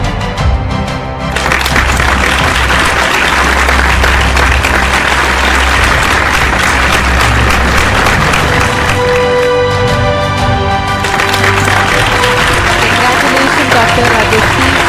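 Applause at a science awards distribution ceremony comes in a loud sustained burst of clapping, with background music and tonal sounds running underneath and a voice briefly audible.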